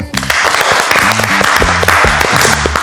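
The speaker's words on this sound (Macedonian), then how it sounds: "Еден голем аплауз ве молам." Audience applause at a culinary reality show, loud continuous clapping from a crowd lasting a few seconds, with some musical tones underneath.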